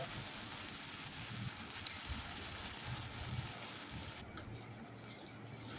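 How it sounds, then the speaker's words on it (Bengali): Ginger-garlic paste frying and sizzling in a pan while being stirred, a soft steady hiss with faint clinks from the spoon. "এবারে দিয়ে দেবো আদা রসুন বাটা কিছুক্ষণ নাড়বো যাতে আদা রসুনের কাঁচা গন্ধটা চলে যায়"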